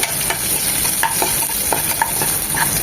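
Curry leaves frying in hot oil for a chicken 65 dish, a steady loud sizzle throughout with scattered light pops and crackles from the pan, no voices.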